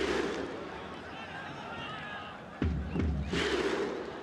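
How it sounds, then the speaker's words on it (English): Crowd noise fills Amman International Stadium during an AFC Champions League match between Al Faisaly and FC Nasaf, a steady roar of many voices with a sudden surge of cheering near the end, heard under a commentator's talk. "the Amman International Stadium, full of noise, full of atmosphere"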